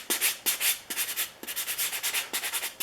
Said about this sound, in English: The sanding sponge, just gently going to clean up all the flat surfaces that I can get the sponge on.